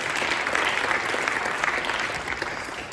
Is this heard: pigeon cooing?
no